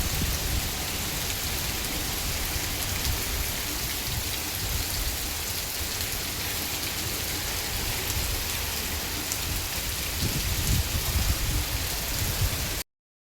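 Steady heavy rain falls in a storm, pattering on surfaces in a dense, constant wash that fills the whole stretch before cutting off abruptly at the end.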